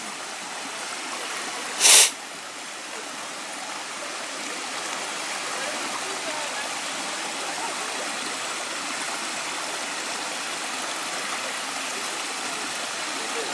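A clear stream flows beside a hiking trail on Mount Tammany, a steady, moderately loud rushing of water that holds constant throughout, with one brief sharp click near the start.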